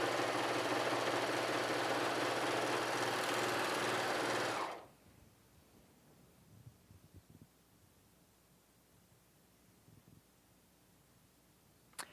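A Pfaff Admire Air 5000 serger runs loud and fast for nearly five seconds, a dense, steady mechanical whir close by. It then stops, leaving near silence with a few faint clicks.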